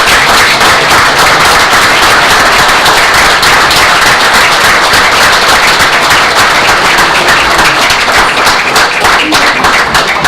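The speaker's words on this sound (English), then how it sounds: "I want to give them a round of applause" A crowd claps loudly and continuously, dense applause holding steady throughout.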